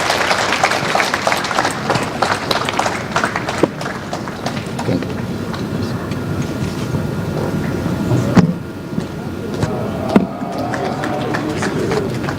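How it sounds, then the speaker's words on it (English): An audience applauds the Oba at a live event with dense, continuous clapping that fills the space, loud and sustained, with a few louder bursts near the end. "Ladies and gentlemen, can we give the Oba an even bigger round of applause?"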